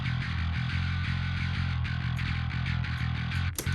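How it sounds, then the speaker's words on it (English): A dense distorted guitar in a heavy metal mix chugs steadily, its high-band distortion making the fizzy upper end harsh and saturated, ending with a brief pick scrape. "And then the high distortion."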